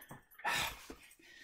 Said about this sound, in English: And Missy, no barking.